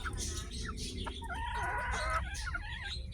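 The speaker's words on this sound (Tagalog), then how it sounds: "Ayan po yung inahin oh." A hen on a game farm clucks close by in short repeated calls, with other chickens and fowl chattering steadily in the background.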